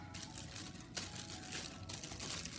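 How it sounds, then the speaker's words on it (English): A small plastic preservative bag crinkles continuously close by during an action figure unboxing, a busy rustling texture with slightly sharper crackles about once a second. "And then I will get a plastic bag."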